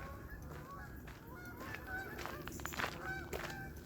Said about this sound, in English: Oh, here the geese.